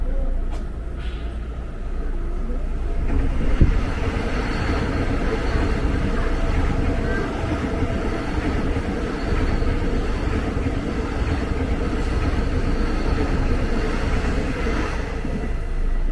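KRL TM 6000 series commuter train at the Manggarai entry signal, bound for platform 11 or 12, with a steady, fairly loud close rumble and wheel noise running unbroken for the whole stretch, with no voices.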